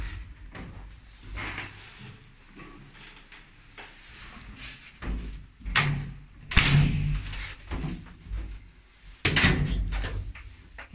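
Inner doors of a pre-war elevator at Kościuszki 40 in Łódź, lightly modernised, opening and closing with several knocks, clacks and scrapes, close and fairly loud, with quieter mechanical handling in between.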